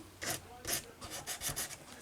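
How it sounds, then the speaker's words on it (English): Sanding of plates on a model dummy that are joined with epoxy and filled with Tamiya putty: six or seven short rasping strokes in a steady back-and-forth rhythm, close and moderately loud. "I am not sanding down the edge of these plates"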